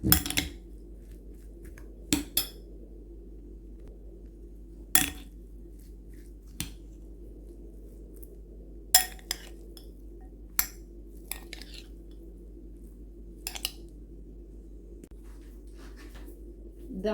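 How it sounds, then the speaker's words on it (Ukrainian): A spoon clinks against a bowl while stirring a zucchini mixture, giving sparse, sharp taps and scrapes at irregular intervals over a low, steady background hum. "Ретельно перемішуємо, щоб була в нас однорідна маса."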